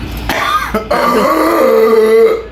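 A person coughs hard a couple of times, then a drawn-out throaty, voiced sound follows, close and loud.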